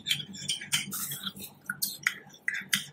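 Light clinking and tapping of a utensil against a cup while mixing homemade hand sanitizer, repeated in quick irregular strokes, close and fairly soft.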